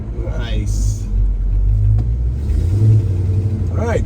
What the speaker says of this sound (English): this thing runs out good. I hear a little like exhaust leak, but nothing major.